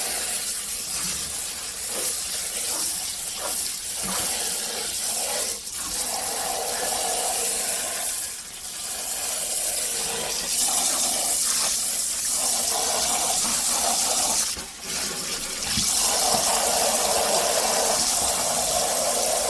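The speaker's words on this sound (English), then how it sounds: "now we're going to be washing our biryani" Biryani rice being rinsed under a running tap, a steady loud gush and hiss of water that continues throughout with small splashy shifts and brief dips.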